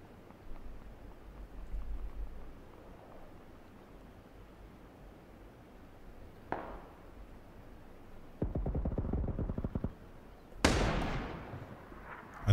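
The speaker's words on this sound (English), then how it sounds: "I took a pot shot there, Dabschnitz." Gunshots in the battle royale game PUBG: a few sharp cracks ring out amid low rumbling ambience, with a short rapid burst near the middle and a louder shot near the end.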